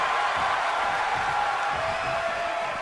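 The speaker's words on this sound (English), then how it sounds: "The sound of this crowd is deafening" Virtual arena crowd in the wrestling video game WWE 2K22, a steady loud roar of cheering that holds throughout without breaks.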